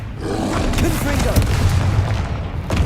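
A Confringo fire spell blasts in Hogwarts Legacy, a deep booming roar of flame that fills the moment loudly and continuously, with game effects rumbling underneath and a fresh burst near the end.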